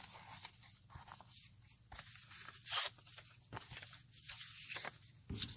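Paper being cut up for a junk journal, quiet scattered snips and rustles in an irregular rhythm, with one sharper crisp cut standing out midway.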